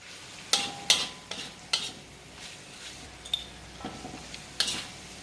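Lemongrass chili shrimp stirred in a pan, with several sharp scrapes and clinks of a utensil against the metal spaced irregularly over a faint sizzle, close and fairly quiet.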